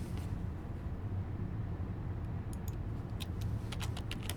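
Quick clicking keystrokes on a computer keyboard come in a short burst near the end, typing a short phrase over a steady low hum, close and fairly faint.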